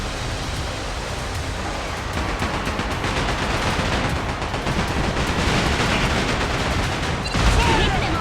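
Pirate ship cannons and guns firing in Like a Dragon: Pirate Yakuza, a dense continuous barrage of gunfire and booming shots over roaring noise, loud throughout.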